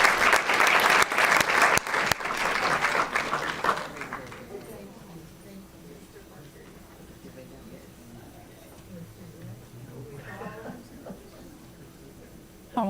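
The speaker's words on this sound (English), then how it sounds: "Would you give another round of applause to Mrs. Parker and her awesome son" Loud, dense applause at a school board recognition ceremony breaks out at the start and lasts about four seconds, then cuts off abruptly. Quiet room noise follows, with a few soft voices and light rustling.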